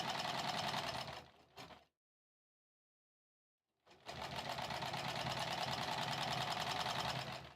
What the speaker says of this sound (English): Feels good to sew these rows together.